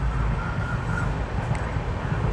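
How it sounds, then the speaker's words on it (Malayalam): A train passing on the railway line near Munroe Island, heading toward Ernakulam, a steady low rumble holding loud and constant throughout without voices. "ഇടയ്ക്കിടയ്ക്ക് ട്രെയിൻ പോകുന്ന ആ ഒരു ശബ്ദവും നമുക്ക് കേൾക്കാം"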